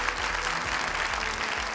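Studio audience applause on a televised Hindi debate show, steady close clapping from a crowd that stays even throughout.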